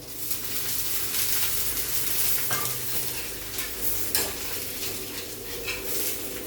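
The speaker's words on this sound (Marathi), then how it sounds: "त्याच्यावर मी तेल सोडत आहे असं." Dhapate flatbread frying in oil on a hot pan gives a steady, close sizzle, with a few faint metallic clinks of a utensil against the pan.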